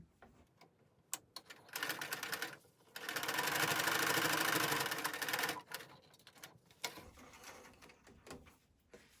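A sewing machine stitches a fabric face mask in short bursts, with a long steady run of whirring stitches in the middle and brief clicks and handling noises between, close by and without talk.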